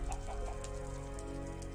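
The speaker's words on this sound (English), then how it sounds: "Why are these chickens still here?" Chickens clucking in the Murder Mystery 2 video game, a few short clucks early on over a low steady hum and patter, fairly quiet with no talking.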